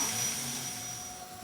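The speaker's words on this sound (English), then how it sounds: "Cows are very sensitive to high-pitched sounds, like the vacuum regulator at the entrance to this parlour" A milking parlour vacuum regulator at the entrance gives off a steady, fairly loud high-pitched hiss with a thin whistling tone, continuous and unbroken with no voices.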